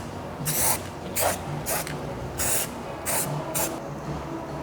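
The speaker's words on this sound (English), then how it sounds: "So I'm going to take some just general cleaner and spray the area first." Six short, sharp spray-bottle bursts of general cleaner hiss out at irregular intervals around a car's rear hitch, each a quick pump of mist, close and fairly loud over a quiet background.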